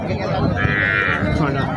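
A cow moos in a drawn-out low call at a busy cattle market where cows and calves are sold, with people talking and bargaining around it.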